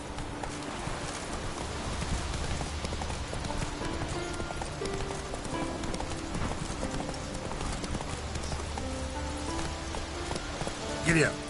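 Hooves of the horse Roach in The Witcher 3, a steady clip-clop running under rain and faint ambient game sound, moderately quiet and continuous.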